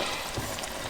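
Caramel with butter bubbles and sizzles in a pot while it is stirred, making a soft, continuous crackling hiss over one brief stretch. No one speaks.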